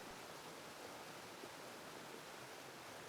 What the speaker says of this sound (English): You can hear the amazing sounds of the water rushing past you.